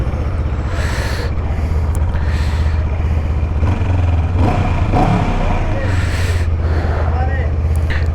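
Honda CL 500 motorcycle engine running close by with a steady throbbing beat and a few swells in revs, rider talking over it.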